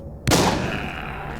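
One sharp gunshot cracks from a weapon in The Walking Zombie video game, then decays through a short reverberant tail, loud and close.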